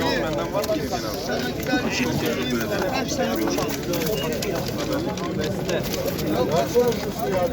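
Pigeons coo and flutter throughout at a busy outdoor pigeon market in İzmir, Turkey, a steady close murmur of birds mixed with constant chatter from people talking nearby.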